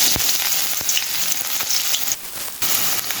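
Onions sizzling in hot oil in a pot while cooking a koi fish curry, a steady close frying hiss with a few sharper crackles and a brief dip in intensity, no voices.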